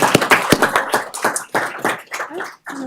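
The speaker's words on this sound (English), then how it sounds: "So clap for, there we are." An audience at a county board of supervisors meeting claps for an award recipient, with sharp, close, scattered handclaps that thin out and stop briefly near the end.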